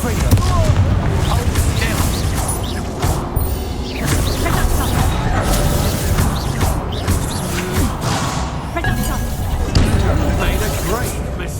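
Confringo fire spells exploding during combat in the Hogwarts Legacy video game: repeated booming blasts and crashes within a dense, loud battle mix, with voices talking over the action.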